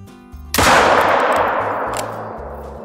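A single loud gunshot cracks out partway through a hunting trip, its sharp blast decaying slowly over steady background music.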